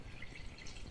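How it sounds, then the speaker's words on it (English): Milk pours into a bowl of pancake batter ingredients with a faint, steady liquid trickle and splash, quiet and close, no voices over it. "Okay, I pour the milk in there."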